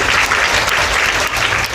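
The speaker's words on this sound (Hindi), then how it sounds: "तालियों से स्वागत नहीं करेंगे मीरा का।" Audience at a Hindu devotional katha gathering clapping together in steady, dense applause, loud and close for a short burst without speech.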